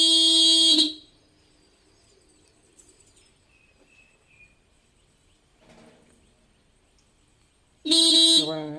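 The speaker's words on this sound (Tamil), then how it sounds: "நம்ம நல்லாவே ஹார்ன் அடிக்குது." Scooter horn with a newly fitted horn switch, two loud bright honks, the first about a second long and the second near the end after a quiet gap with faint background noises.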